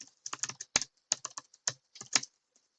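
Rapid bursts of typing on a computer keyboard, clustered keystrokes in quick irregular runs with short pauses, close and clear with no talking.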